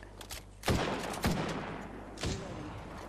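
Gunfire in a video game: three sharp, loud shot bursts ring out alone over a low steady hum, with short echoing tails between them.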